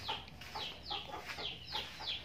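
Chickens on a farm cluck in a quick series of about six short repeated calls, fairly faint and evenly spaced, with no talking.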